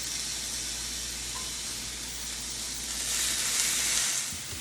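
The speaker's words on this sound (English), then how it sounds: "Listen to that sizzle." Loud, continuous sizzling of mushrooms frying in a hot skillet, a steady crackling hiss that swells slightly near the end.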